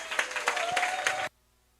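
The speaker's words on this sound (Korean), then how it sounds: "큰 박수 부탁드리겠습니다" Scattered audience clapping, moderately loud, that stops abruptly after about a second, at a youth committee launch event of a Korean political party.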